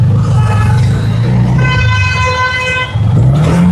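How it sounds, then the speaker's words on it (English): Car horns honk several times, short toots and one longer blast, over loud close traffic rumble on a street in India. "Honk as you go"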